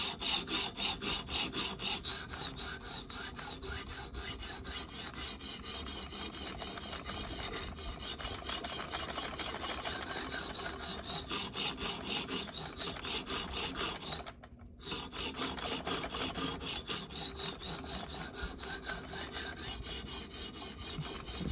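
Steady abrasive rasping of a Spyderco Sage 5 knife with CPM Rex121 steel being sharpened, continuous close strokes with one brief pause near the end.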